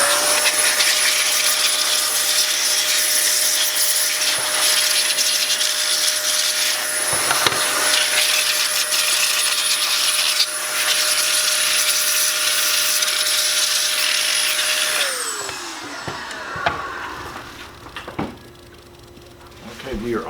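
A handheld air blower whooshes steadily and loudly for about fifteen seconds, clearing dust off ASIC crypto-miner cooling fans, then cuts out abruptly, leaving a few clicks and handling knocks.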